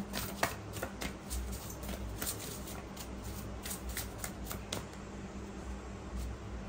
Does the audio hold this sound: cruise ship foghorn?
no